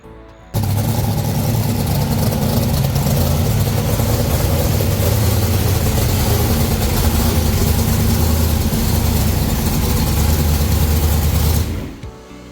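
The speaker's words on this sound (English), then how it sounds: "that went right up on the rev limiter" A car engine at the drag strip with a trans brake, revving hard up to the rev limiter and holding there in a loud, steady buzzing drone for about eleven seconds before cutting off.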